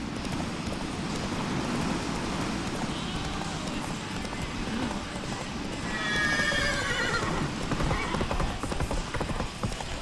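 Roach, the horse in The Witcher 3 game, gallops with a steady rapid clip-clop of hooves and lets out a loud whinny midway, over a dense ambient game background.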